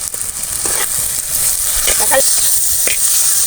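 Chopped tomatoes sauté with salt in a hot pan, giving a steady, close sizzle and hiss broken by scraping stirs throughout.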